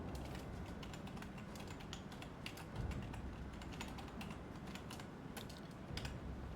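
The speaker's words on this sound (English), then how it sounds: "Of course, I'm typing Ukrainian." Quiet, rapid keystrokes clatter on a computer keyboard in irregular bursts, close but low in level over faint room noise, with no talking.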